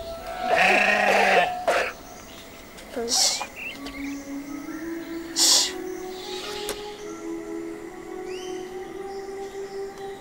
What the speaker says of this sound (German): Manchmal sitze ich nur so da und schaue den Schafen zu.